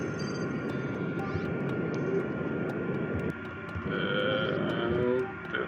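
Sustained rocket engine burn in a spaceflight game, a steady loud broadband roar with shifting tones running the full length, with faint voice-like sounds mixed in.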